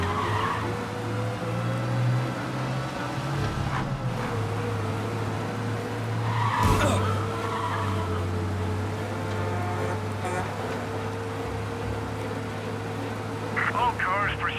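A car speeds away to escape police in the game Mafia Definitive Edition, a steady engine drone with tire noise and a brief sharp swell midway, heard continuously throughout.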